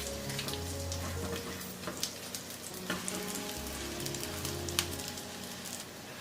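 A chive and egg pancake fries in a pan over low heat, a soft continuous oily sizzle with light crackles and pops, close and quiet with no talk.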